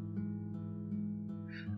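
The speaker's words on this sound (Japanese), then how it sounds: "あ、猫いた。" A cat meows in the horror game Witch's House, a short, faint cry heard over a steady droning tonal background music.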